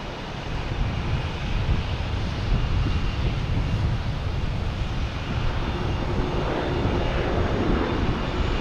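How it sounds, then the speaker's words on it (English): SAS and Swiss Air airliners taxiing toward a runway at Boston Logan, a steady loud jet engine roar with broad wind-like rushing that holds even throughout. "You get SAS and Swiss Air heading down November to line up on one of the 22s to take off."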